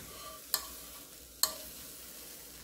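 Dried pollack shreds being stirred in a pan after light toasting with the heat turned off, giving two or three sharp scraping clicks of the utensil over a faint background hiss, with no talk.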